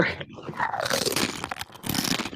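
A voice imitates a crunching sound, producing rough, gritty mouth noises in several bursts with short pauses between them, close and fairly loud.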